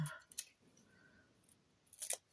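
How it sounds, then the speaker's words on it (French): Scissors snip paper while crafting an autumn moodboard, a few short crisp cuts in quick bursts at the start and end with quiet gaps between, heard alone. "Les ciseaux, il va falloir que je les nettoie de nouveau."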